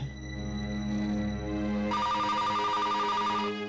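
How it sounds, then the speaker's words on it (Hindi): A telephone rings with a steady electronic trill that shifts to a higher, brighter ringtone partway through, loud and close, no voices. "शायद पिया का फोन होगा।"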